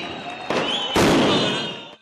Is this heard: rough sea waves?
no